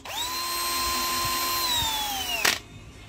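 Cordless brushed drill driver with carbon brushes spinning up loudly and holding a steady whine for over two seconds, then winding down with a short burst of clutch clicking near the end; no talk.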